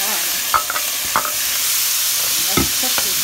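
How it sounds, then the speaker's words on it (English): Onions and peppers stir-frying in a pan for a rice bowl, with a steady close sizzle and several sharp clacks of a utensil scraping and stirring, no voices. "So we're just stir-frying that, looking good, right? Stir-frying that down."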